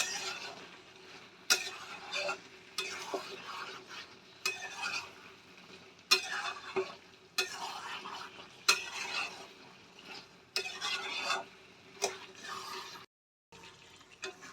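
Chicken meat frying in a pan for a hand-mixed barista-style chicken dish, with repeated stirring strokes scraping through a steady sizzle, close and rhythmic, briefly pausing near the end.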